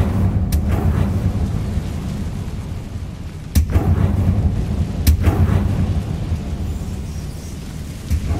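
Incendio fire spell cast in Hogwarts Legacy, heard as a booming low rumble with sharp cracks at about 0.5, 3.6 and 5 seconds over continuous game ambience.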